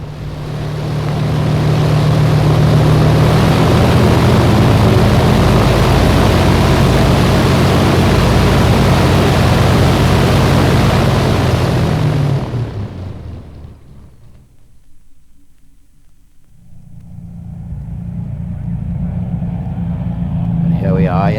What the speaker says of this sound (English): here they come, the Hurricane and the Spitfire together in formation, passing over the airfield